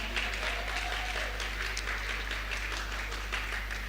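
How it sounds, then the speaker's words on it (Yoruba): An audience at an empowerment workshop applauds a participant, a steady wash of clapping that holds for the full four seconds over a low background hum. "ẹ jẹ́ kí a pàtẹ́wọ́ fún wọn"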